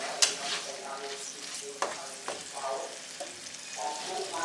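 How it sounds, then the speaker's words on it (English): Hamburger meat stirred in a pan with a dissolving beef bouillon cube and liquid, giving a soft sizzle with scattered scraping spoon strokes, close and moderately loud, with no talking. "that's why we're giving this a stir"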